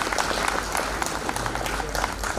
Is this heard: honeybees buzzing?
no